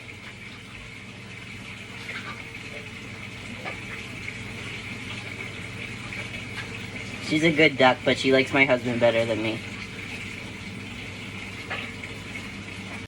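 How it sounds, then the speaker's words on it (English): A Jumbo Pekin duck splashes and quacks in water in a short, busy burst of flapping and quacks partway through, while someone talks nearby over a low background hum. "splashing and quacking in the background"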